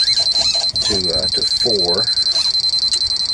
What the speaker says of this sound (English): What you're hearing in the background is the scintillator, the alarm going pretty crazy.